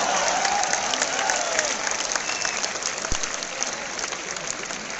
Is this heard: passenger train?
no